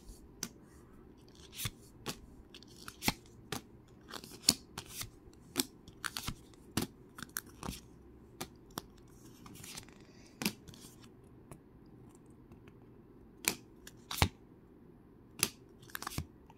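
Tarot cards shuffled and handled by hand in a quiet room, giving crisp, irregular snaps and clicks that come in quick clusters and scattered single taps, with no voices.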